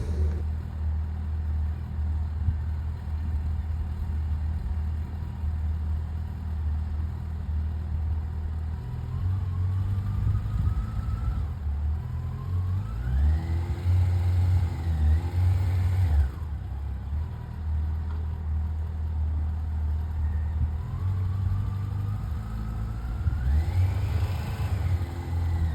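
Yamaha FJR1300 motorcycle engine through slow-speed practice turns, a steady low drone with several rising revs as the throttle opens, continuous and fairly close, no talking.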